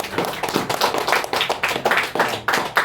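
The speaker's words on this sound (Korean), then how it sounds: "박수." Classroom clapping rings out in a quick burst of about a dozen sharp, loud claps in a brisk, slightly uneven rhythm, close by and without voices.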